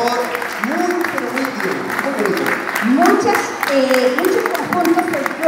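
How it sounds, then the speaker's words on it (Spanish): Audience applause at a 2019 folk fashion show as models in traditional folkloric dresses walk onto the center of the stage, a steady crowd clapping mixed with a presenter's voice talking over it throughout. "Un aplauso para las modelos que vienen entrando acá al centro del escenario."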